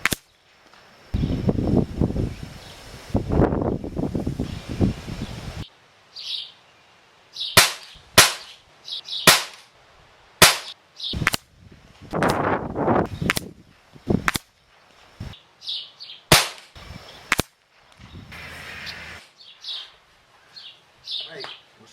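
A Crosman .22 caliber PCP air rifle fires on a farm at targets 40 to 50 yards away. About a dozen sharp, close cracks come at irregular intervals, with birds chirping faintly between them and a few seconds of talk at the start.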